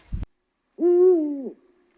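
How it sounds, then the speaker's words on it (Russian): After a brief thump, a single deep, hollow eagle owl hoot sounds clearly for under a second, close and isolated against silence. "филин ухает"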